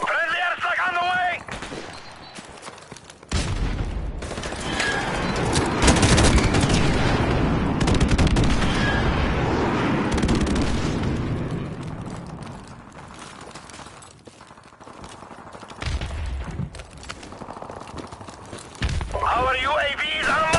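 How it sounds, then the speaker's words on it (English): Modern Warfare Remastered combat with an airstrike: a long rolling roar of explosions and rapid gunfire building loudly, with sharp shots scattered before and after and game voice callouts at the start and end. "Friendly airstrike on the way!"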